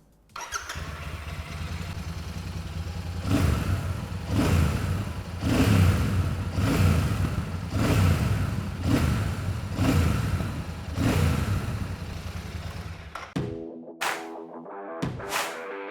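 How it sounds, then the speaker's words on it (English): Royal Enfield Super Meteor 650 parallel twin exhaust rumbling close up at idle, blipped through five or six rhythmic revs, then cut off abruptly, followed by a brief unrelated tonal sound at the end. "Now moving on to what the Super Meteor sounds like."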